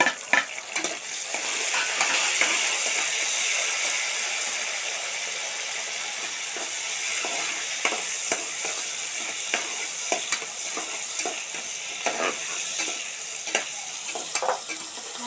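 Masala of onions, chillies and tomatoes frying in a pan for a Sunday mutton boti curry, a steady close sizzle broken by frequent sharp scrapes and clicks of a spoon stirring, with no voices.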